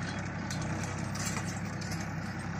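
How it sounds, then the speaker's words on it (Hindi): A Massey tractor's engine runs steadily as it drives through soft mud, a continuous low, even drone close by with no voices. "इतनी मिट्टी में तो ट्रैक्टर आराम से जा रहा है देख लो।"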